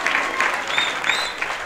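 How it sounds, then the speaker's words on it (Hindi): A church congregation claps in sustained applause, a steady, dense patter of many hands close by that fills the whole moment with no clear breaks. "जोर से तालियां बजाइए पिता परमेश्वर के लिए"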